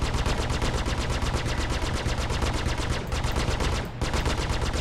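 Ship-mounted weapons in Star Citizen fire in rapid, evenly spaced bursts, loud and continuous like a machine gun, with a brief gap before the volley resumes.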